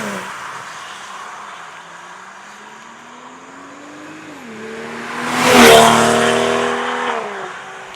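Tuned 450-horsepower 2025 BMW M340i with a Miltech full system exhaust rumbling and revving, a low droning engine tone rising and falling before a loud roaring burst as it passes close, then fading.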